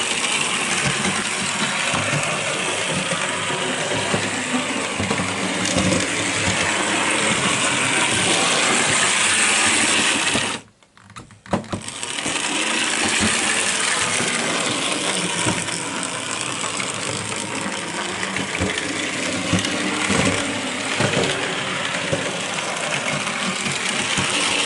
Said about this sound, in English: that locomotive really ought to have gone round a bit quicker than that